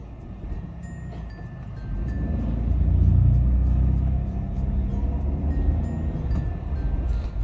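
A manual car creeps slowly around a bend while an oncoming car passes, giving a steady low engine rumble that swells midway and then settles, with no talking.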